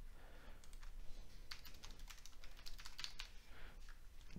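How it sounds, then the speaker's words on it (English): Rapid keystrokes on a computer keyboard as a web address is typed into a browser address bar, an irregular run of light, close clicks and taps with no talking. "They're just as easy as typing the address in your address bar here."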